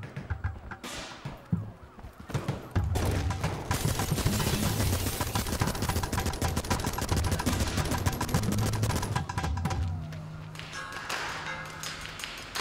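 Dense, rapid gunfire clatters for several seconds in the video game Ape Out, loud rattling bursts with sharp taps and thuds before it eases into quieter game sounds.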